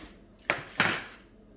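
Two sharp metallic clanks as wild boar poppers wrapped in bacon are set into a metal baking pan, close and distinct, each with a brief ringing decay and no talk.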